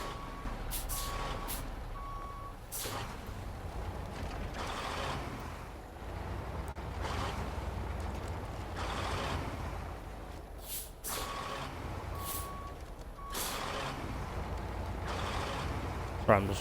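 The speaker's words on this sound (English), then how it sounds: "I'm going to use the winch to put it up the bit there." Heavy off-road truck in a snowy video game, a steady engine drone throughout with repeated air-brake hisses and short beeping tones, as the vehicle winches itself up a steep hill.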